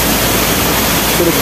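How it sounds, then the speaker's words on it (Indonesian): Curug Ciputri, a waterfall in Mount Ciremai National Park, roars as a loud, dense, unbroken rush of falling water close by. "Air terjun lagi. Dapat air terjun lagi."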